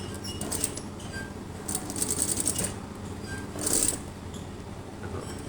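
A domestic sewing machine stitches in short bursts, a close, soft mechanical patter with faint high ticks, starting and pausing over a few seconds at moderate volume without speech.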